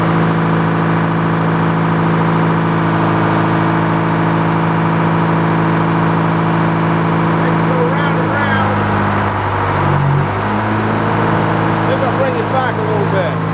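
The engine powering a 1929 Frick sawmill runs loud and steady with a constant droning hum, briefly shifting in pitch and load partway through, with speech over it.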